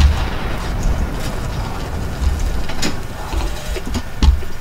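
Gunfire at an armed police impound lot in BioShock Infinite: dull low booms and scattered sharp cracks over a steady rumbling background, with several heavier thumps spaced irregularly through the stretch.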